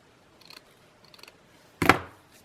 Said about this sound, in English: I'm just going to trim off this netting that's hanging off the sides.